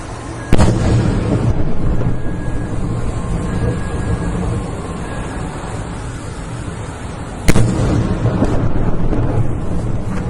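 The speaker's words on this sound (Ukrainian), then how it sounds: "далі у нас вибухи в окупованій Макіївці" Two sharp, loud explosions about seven seconds apart in occupied Makiivka, Ukraine, each followed by a rumbling roar that carries on under constant noise.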